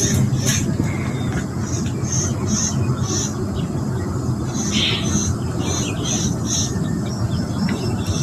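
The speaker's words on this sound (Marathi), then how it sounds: "फक्त पक्ष्यांचा आवाज खूप येतो." Birds call around a farmhouse in the morning, with repeated bright chirps and whistles at moderate distance over a dense, steady low rumble of background noise.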